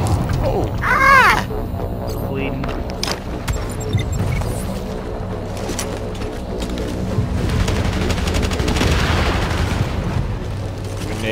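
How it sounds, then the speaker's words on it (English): A grenade explosion and bursts of gunfire in The Division video game's Russian Consulate fight, with booms and rapid shots layered over busy battle noise while players talk throughout. "Grenade, Windbow."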